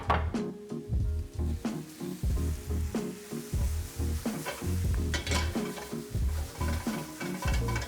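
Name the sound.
thinly cut peppers and onions frying in a pan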